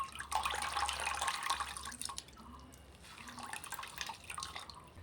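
Water dripping and trickling as soaked chhena is squeezed by hand in a cloth for homemade paneer, with uneven splashy drips, close and moderately loud, easing in the middle then picking up again.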